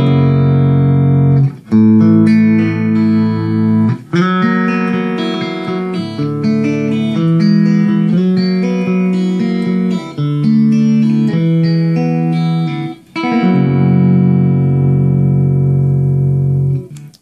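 A Crook Custom vintage paisley T-style electric guitar, played through both pickups together with Voodoo pickups, rings out in clean, clear chords and single notes, struck in phrases with sustained decays and a final held chord, close and without talking.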